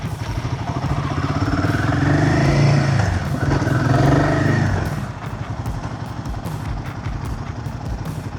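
A Royal Enfield Himalayan 450 motorcycle is ridden, its engine droning close by and swelling as it revs up for a few seconds before settling back to a steady, quieter run.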